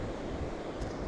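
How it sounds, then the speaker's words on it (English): Wind-driven ocean waves breaking on a beach at Puerto del Carmen, Lanzarote, on a windy morning, a steady loud broadband roar with wind buffeting the microphone throughout and no distinct individual wave crashes. "You can hear the sound waves and all the stuff."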